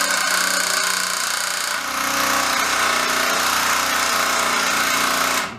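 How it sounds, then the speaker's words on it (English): A Ryobi R18QS Quiet Strike cordless nailer, apparently jamming, runs with a loud, continuous mechanical grinding buzz close up. The sound barely changes for about five seconds, then stops abruptly. "Don't know why the RYOBI seems to be jamming"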